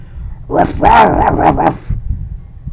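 A person imitates a dog, barking and growling in a run of harsh voiced yelps and snarls lasting over a second, close and loud, then trailing off into quieter vocal noise.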